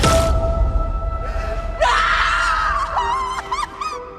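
A female character in the horror series IT: Welcome to Derry lets out a piercing, gut-curdling scream that rises sharply after a brief breathy noise, wavering and breaking into shorter cries as it fades, loud and close.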